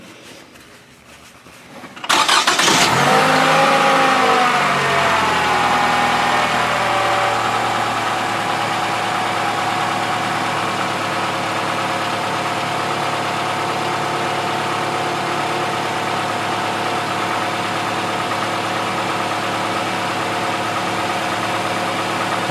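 A 2012 Toyota Camry engine cranks briefly, catches and then settles into a steady, loud idle that holds evenly for about twenty seconds with no talking.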